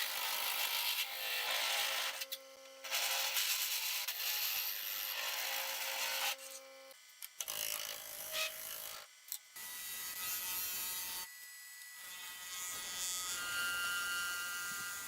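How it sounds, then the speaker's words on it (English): A 3-inch Forstner bit bores into a turned wood blank, grinding and rasping in close bursts separated by short pauses, with no talking. "you can use the big, large 3-inch Forstner bit, and I won't have any troubles with it"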